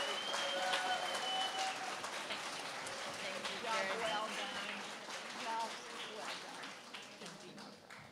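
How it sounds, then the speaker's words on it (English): Applause from an audience at an art awards ceremony, dense sustained clapping that stays fairly even and then slowly eases, with faint voices underneath. "let's give them a round of applause for all of their efforts"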